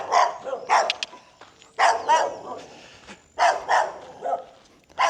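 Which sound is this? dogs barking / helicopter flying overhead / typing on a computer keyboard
dogs barking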